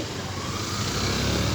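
A motorcycle engine idles steadily and fairly loud from close by, with the rider sitting on the bike outside a hotel in Sreemangal; a continuous broadband rumble with no talk.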